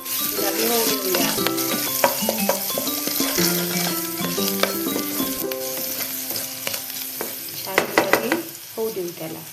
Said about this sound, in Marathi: त्यानंतर टाकूया हा गत्त्यात कुटलेला लसूण. त्याला छान असं गुलाबी होऊ देऊया.